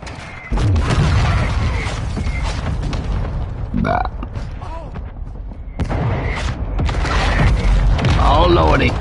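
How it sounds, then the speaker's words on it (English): Booming airstrike explosions in a combat video game, several heavy blasts rolling over a dense noisy battlefield, with a voice talking over parts of it. "Well, that was a pointless airstrike."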